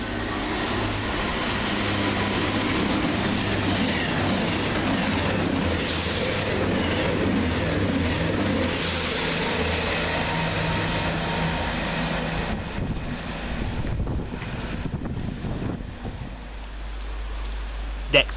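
Two coupled Class 221 trains, 221-142 and 221-113, passing southbound through Lea Hall station, a sustained close roar of wheels and engines for about twelve seconds that drops away into rattling and clatter as the train departs, with rain falling.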